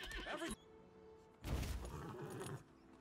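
A horse in the video game Lost Ark neighs twice in loud, close bursts, with a short gap between whinnies and faint background game ambience.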